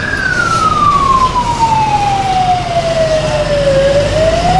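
An ambulance siren wailing loudly and close by, one long falling and rising sweep over a dense traffic rumble, with the ambulance stuck in a jam on the Gandhi Setu bridge.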